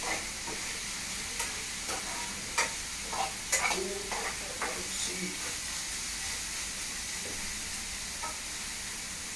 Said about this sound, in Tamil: பச்சை மிளகா நல்லா ஒரு வதக்கு வதக்கிற வேண்டியது